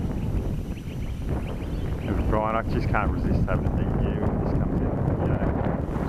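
Gusty wind buffets the microphone as a steady broadband roar on a windy day at an RC helicopter flying field, with someone talking over it partway through.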